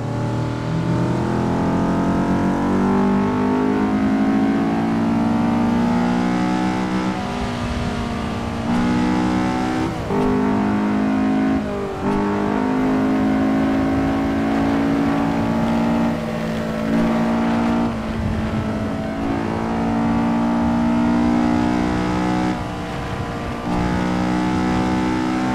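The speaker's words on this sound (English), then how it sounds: "I would like to just hear the VTEC crack here if we can" A 350 hp 2008 Honda Civic Type R FD2 with a VTEC engine, heard in a traffic-cutting racing video game, revs hard and continuously, climbing through repeated gear changes with a loud, high-pitched engine scream.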